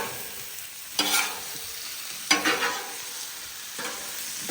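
Three scraping stirs of tortellini in a simmering pot, each a short swish of a spoon against the pot, over a constant soft bubbling and sizzling bed, cooked outdoors.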